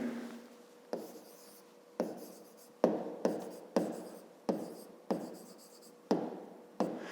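Pen writing on paper while drawing two intersecting lines for a 5th-grade maths exercise, heard as a series of about nine close, sharp scratchy strokes at a steady rhythm, with no talking.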